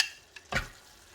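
Empanada filling simmering in a pan as a spoon stirs it, a soft steady sizzle with one brief scraping stir, faint and close, no voices.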